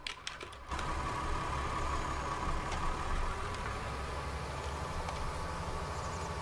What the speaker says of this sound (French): le régime du moteur qui s'accélère